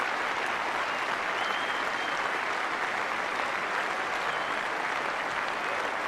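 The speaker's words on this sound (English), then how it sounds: "The big applause, players' balcony." Steady, dense crowd applause rolls on without a break from spectators at a 1990 England v India cricket Test, greeting an England batsman's century, with no voices heard over it.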